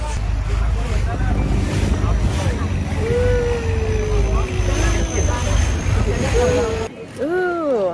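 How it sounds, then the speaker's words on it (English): A longtail boat ride on the sea in Thailand brings a loud, constant engine and wind roar at the bow, with faint voices and a rising, sliding tone drifting over the rumble. "We're on the longtail boat to get to James Bond Island."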